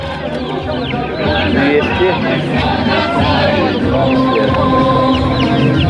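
White Orpington chickens cluck and crow at a poultry fair in Kursk, steady and fairly close, amid a busy crowd murmur with people talking over them throughout.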